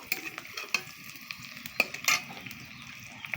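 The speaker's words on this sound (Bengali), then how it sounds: "পেঁয়াজটা ভালোভাবে নেড়ে চেড়ে একটু লাল করে ভেজে নেব" Chopped onion and green chillies stirred and fried in a wok for an okra dish: a steady close sizzle broken by rhythmic scraping strokes of the spatula and occasional clinks against the pan.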